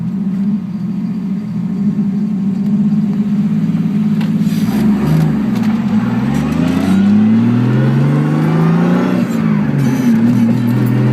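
A Datsun Z fitted with an RB30DET turbo engine idles loudly and steadily up close, its low rumble wavering as the revs dip and rise a couple of times.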